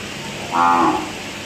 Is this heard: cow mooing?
yes